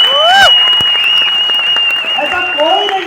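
Audience applause at a business success celebration, steady and fairly loud across the whole stretch, with voices and crowd noise running underneath and a whistle-like tone rising above the clapping.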